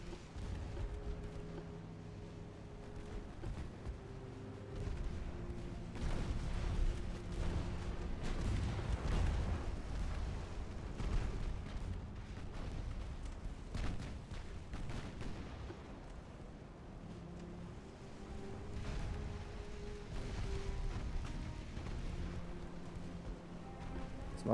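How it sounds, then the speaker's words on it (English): Naval gunfire from warships in the video game Ultimate Admiral: Dreadnoughts, with steady rumbling booms and repeated shell blasts rolling through a dense, continuous battle din. "Because he's the one shooting at you guys."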